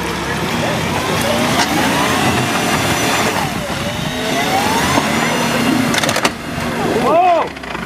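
A Land Rover Discovery 3 stuck in a tight corner off-road in Snowdonia strains its engine loudly while its gearbox breaks, with a sharp jolt near the end and excited voices talking over it.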